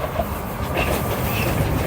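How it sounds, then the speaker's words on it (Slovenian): A train runs along a railway line near the Donauinsel in Vienna, giving a steady, loud rumble with clickety-clack wheel noise throughout and no voices. "ste zdaj videli tudi del poželjne železnice"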